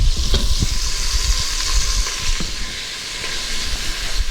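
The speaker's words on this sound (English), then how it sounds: "Now we're going to add the onion and saute that for a couple of minutes." Onion sautéing in an Instant Pot for beans and rice, a steady close sizzle and hiss with light stirring clicks and scrapes, no voices.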